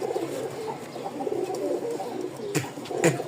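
Soft, low cooing from a pair of black-flocked Rajshahi pigeons repeats close by in gentle rounded phrases, with a couple of brief rustling bursts toward the end.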